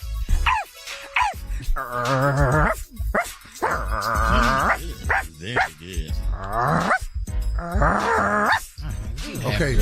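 A voice imitates a dog barking in a series of loud, close, drawn-out barks and yips, with brief spoken praise mixed in.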